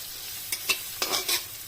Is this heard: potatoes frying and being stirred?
yes